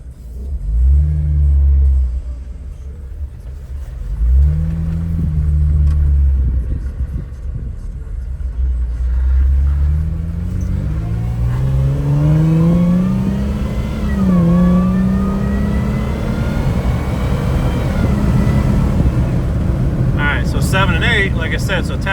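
A Hemi car engine, running through an eight-speed automatic with an aftermarket controller, revs loudly up close while the car spins around. Its pitch climbs, dips and sweeps up again in long waves throughout.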